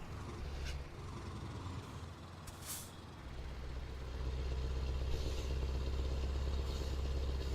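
Loud air-brake hiss bursts from a truck in Euro Truck Simulator 2, two sharp releases early on over a low rumbling engine drone that swells steadily toward the end.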